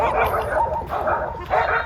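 Several sled dogs bark repeatedly in Skagway, Alaska, where they pull dog carts on wheels, with bursts of barking recurring through the clip amid faint background talk.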